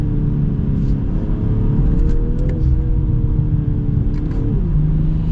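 A 2023 BMW M440i xDrive engine drones loudly with pitch shifts on a downshift, and a few faint crackling exhaust pops flicker above the steady exhaust rumble.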